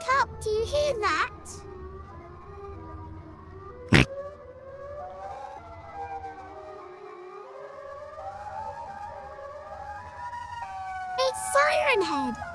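A long, eerie horror-style siren wail rises and falls over a low rumble, with a sharp bang early on and brief childlike voices at the start and end.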